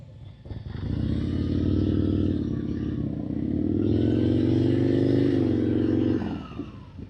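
A motorcycle engine runs close by at low speed during slow-speed riding practice, holding a steady drone that rises slightly as the throttle is eased, then fades as the bike stops, with no talk.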